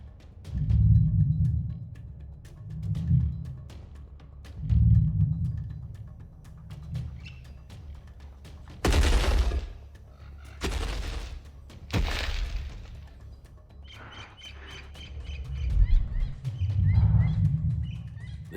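A digitally recreated Tyrannosaurus rex closed-mouth vocalization: deep, rumbling low pulses rise and fall in a slow rhythm, broken midway by a few sharp, loud bursts before the rumbling resumes.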